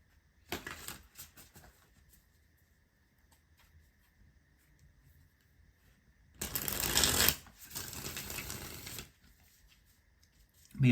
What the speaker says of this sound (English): let's shuffle the cards and see what comes out for you.